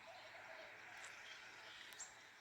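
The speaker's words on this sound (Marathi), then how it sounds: "आणि पक्ष्यांची पण छान अशी किलबिल किलबिल किलबिल ऐकायला येते." Birds chirping in the early morning around sunrise, with a few faint, brief high chirps against a soft, steady outdoor background hiss.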